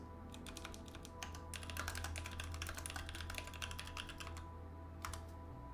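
Rapid typing on a computer keyboard during a quiet focus session, close and fairly faint, with bursts of quick clicking keystrokes, a brief pause, then a few more taps over a low steady hum.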